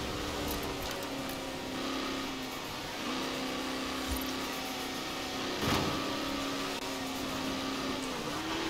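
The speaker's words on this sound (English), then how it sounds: "Deadass can even hear the turbos." Engine drone and turbo whine from a car in the Forza Horizon 4 video game at a street car meet, a steady, fairly quiet hum with a faint whistle running throughout and a brief louder bump near the middle.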